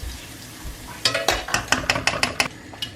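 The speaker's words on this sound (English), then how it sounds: "we're going to get all of this mixed together." Chilli, garlic and seasoning are stirred in a pan, with a run of quick, close scraping and clinking strokes of a utensil against the pan over a low sizzle.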